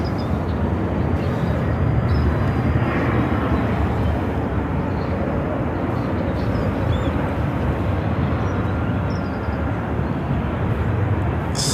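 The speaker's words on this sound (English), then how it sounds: "Cessna 510 Citation Mustang headed to Boise." Cessna 510 Citation Mustang jet at Phoenix airport, a steady broad roar of engine noise held at even loudness throughout.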